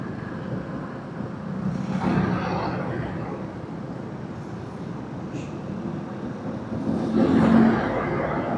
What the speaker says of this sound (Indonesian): Jalannya macet.